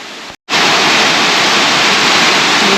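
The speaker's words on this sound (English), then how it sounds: "The fast-flowing Miners River drops about 50 feet over sandstone outcrop, making Miners Falls the park's most powerful waterfall." Miners Falls, where the fast-flowing Miners River drops about 50 feet over a sandstone outcrop, roars loud and close as a dense, steady rush of falling water after a brief silent gap.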